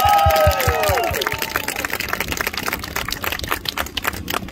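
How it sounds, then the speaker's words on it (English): A crowd at a Pride event with student speeches gives a round of applause. A voice speaks briefly at first, then dense clapping runs on steadily and slowly thins toward the end. "Can we have a round of applause for them?"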